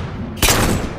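A single pistol shot from Halo 4 multiplayer cracks out sharply after a quiet moment, its loud burst trailing into a brief decaying tail.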